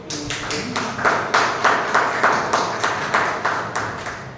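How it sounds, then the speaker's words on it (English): Audience at a Toastmasters club meeting clapping together in a steady, evenly spaced rhythm, each clap crisp and fairly loud in an indoor room, continuing for several seconds without any talking. "Please give a round of applause to"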